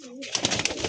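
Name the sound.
pigeons (Madrasi highflyer) moving about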